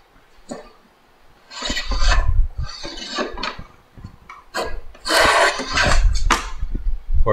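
A fore plane is pushed along a pine board, giving a few loud, rasping strokes of shavings being taken, with knocks and clatter from handling the tool in between.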